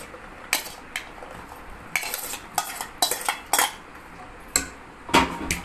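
Jackfruit seeds tipped into a cooking pot, giving a run of sharp clattering knocks and scrapes of hard seeds and a utensil against the metal, in several distinct bursts, fairly close, with no voices.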